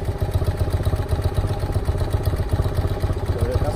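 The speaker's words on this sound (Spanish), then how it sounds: "Voy a probar la moto un poquito por aquí, en parado, para que veáis cómo suena y cómo se mueve." A BMW R100 T motorcycle idles while stationary, its boxer engine producing a loud, steady, pulsing thrum with an even rhythmic beat and mechanical clatter, heard up close.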